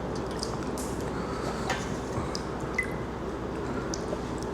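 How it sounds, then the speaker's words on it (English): Water runs steadily over a large squid while it is rinsed clean of ink, a close, constant wet splashing with a few squishy handling sounds and no talk. "go ahead and start rinsing it off and get most of the ink off the squid and out of the squid"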